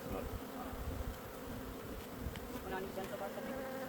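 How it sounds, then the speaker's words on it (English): Honey bees buzz in a dense, continuous drone, several insects humming close by with individual passes rising out of the swarm noise. "Oh, the bees."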